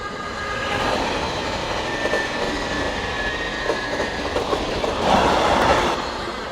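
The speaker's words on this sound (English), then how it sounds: "Train's coming again." A train runs past castle ruins and a tourist area, a loud, steady rumble of wheels and cars with rising clatter and squeal toward the end, no talking.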